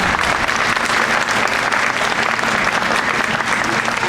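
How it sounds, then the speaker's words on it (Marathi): Steady, enthusiastic applause from a large crowd at a 2013 Ganesh festival cultural programme in Kansas, loud and continuous throughout with no gaps. "ह्या आपल्या कलाकारांसाठी पुन्हा एकदा जोरदार टाळ्या होत जाईल"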